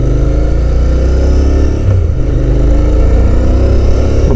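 A Royal Enfield 650 Cafe Racer motorcycle with a stock exhaust rumbles loud and close, its mid-frequency engine note holding steady with slight rises in revs and no talking.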